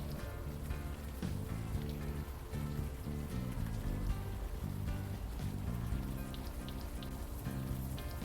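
Steady rain patters on surfaces in the adventure game Unavowed. Quiet music plays beneath it, and no voices come in.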